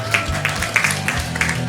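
Audience clapping for a saxophonist at a Penang musicians' showcase, a steady patter of hands with a few sharper claps rising over a murmuring crowd.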